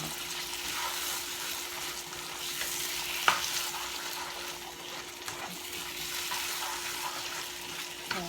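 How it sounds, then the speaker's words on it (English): Curry stewed chicken bubbles and sizzles in a pot while a spoon stirs it, giving a steady close frying hiss with occasional scrapes and one sharp knock against the pot. "Just cooking that curry just a little bit."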